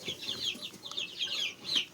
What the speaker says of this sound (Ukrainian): Курчата кричать